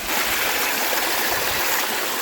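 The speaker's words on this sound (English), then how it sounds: "Waterfalls." A waterfall outside Whitehall, Montana pours in a steady, close, full rush of falling water, continuous and loud with no voices over it.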